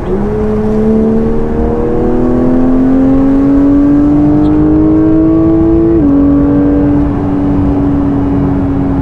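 A Porsche 992 GT3 engine revs loudly and smoothly, its pitch climbing steadily before a sharp gear shift, then holding a high whine.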